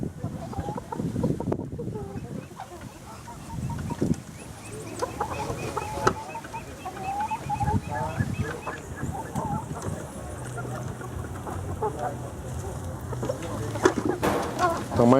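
Índio Gigante chickens cluck and call in a farmyard with ducks nearby, steady scattered clucking at moderate distance over background noise and a few brief voices.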